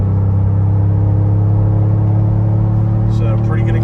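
A Ford Bronco's engine pulls hard while towing a 3,500 lb trailer on flat ground, climbing toward 4,000 RPM as a loud, steady low drone with rising whir inside the cabin.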